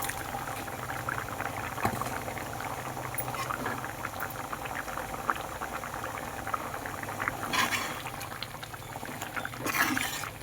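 A pot of coconut curry bubbles steadily at a simmer on a gas stove, with a continuous close-up hiss and pop of boiling liquid throughout, no voices.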